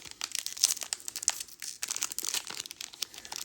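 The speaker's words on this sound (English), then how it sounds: "for some reason these packs have been the hardest to open as of recent" Plastic wrapper of a Magic: The Gathering Teenage Mutant Ninja Turtles play booster pack crinkles and crackles up close in irregular bursts as it is pulled open, alone without talk.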